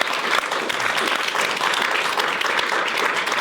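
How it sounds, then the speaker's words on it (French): Studio audience applauding a guest on a talk show, with steady, loud, dense clapping throughout and no voices over it. "Greg Tadbibian, on peut l'applaudir bien fort."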